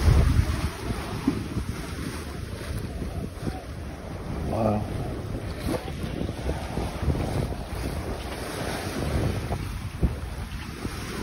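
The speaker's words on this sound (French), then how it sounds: "il survole légèrement les vagues" A sailboat lifted slightly on its foil skims over the waves in wind, with a constant rush of wind noise and water hiss and an occasional slap as a wave is struck; a voice speaks briefly.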